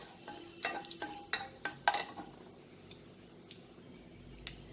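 Bay leaves and cumin seeds hit hot white oil in a pan, giving a quiet sizzle with several sharp clinks and stirring knocks in the first two seconds before settling into a soft, low crackle.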